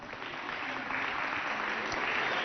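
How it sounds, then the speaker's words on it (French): A studio audience applauds to welcome students from George Washington onto the stage of a televised school competition, a dense, steady patter of many clapping hands filling the whole moment without pause. "On invite les élèves qui nous viennent de George Washington sous vos applaudissements"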